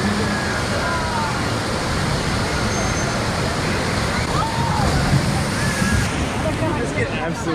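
Water drenches riders on the Popeye and Bluto's Bilge-Rat Barges river raft ride at Universal Studios Orlando, a dense, continuous rush of splashing and sloshing with faint voices mixed into the noise.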